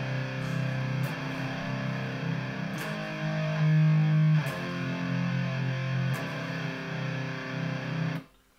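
Heavily distorted electric guitar plays simple early-2000s metalcore chords, thick and sustained with occasional chord changes, loud and close, then cut off abruptly near the end.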